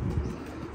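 Soft, low cooing from pigeons in a home bird loft, a brief murmuring burst heard close and alone without any talk.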